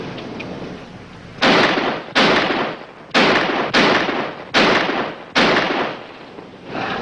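A gun fired into the ground until empty, six loud close shots spaced about a second apart, each with a short rumbling tail, in a 1950s Highway Patrol drama.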